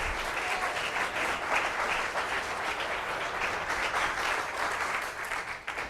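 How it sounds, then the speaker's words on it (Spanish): A church congregation claps together during a Spanish-language service, sustained, dense applause from a large group filling the room, steady for several seconds without voices. "Denle otro aplauso a Jesucristo."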